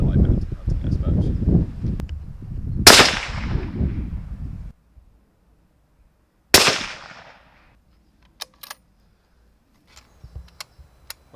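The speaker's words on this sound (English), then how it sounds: "I've had a couple of sitting shots at that sort of 65-yard mark." After someone talks, a Remington 700 Mountain SS bolt-action rifle in .308 fires two loud, sharp cracks outdoors several seconds apart, each with a short decaying echo, followed by faint clicks and handling noises.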